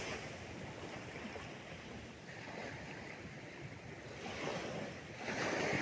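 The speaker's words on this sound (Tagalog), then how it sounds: "malakas ng alon ng dagat." Strong ocean waves during a storm crash and wash continuously near the shore, a loud broadband roar with surges building toward the end, wind mixed in, no voices.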